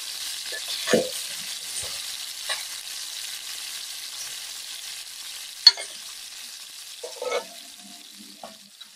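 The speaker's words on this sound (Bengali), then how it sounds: "মাছ ভাজিগুলো হয়ে গেছে, এখন নামিয়ে নেব।" Hilsa fish fries in hot oil in a kadai, making a faint background sizzle broken by a few sharp clinks and scrapes as the pieces are stirred and lifted.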